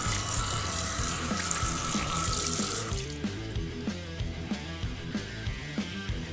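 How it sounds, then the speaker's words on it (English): Water from a bathroom sink tap runs steadily while a safety razor is rinsed under it, a close hiss that gives way to intermittent splashes and clinks. "we're going to rinse this off"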